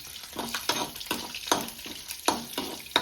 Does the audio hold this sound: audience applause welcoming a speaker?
no